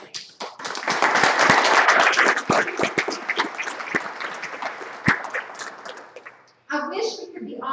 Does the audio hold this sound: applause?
yes